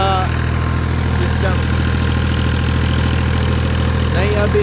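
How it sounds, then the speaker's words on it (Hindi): Tractor engine revving at an old tube well, a loud steady mid-pitched throb with a rapid pulsing rhythm held close throughout, while someone talks over it. "तो ये ट्रैक्टर की रेस देख लें आप"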